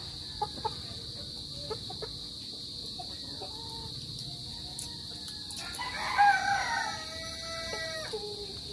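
A rooster crows once in a backyard farm, with chickens clucking faintly at a distance over a steady background hum and high insect-like buzz, no talk.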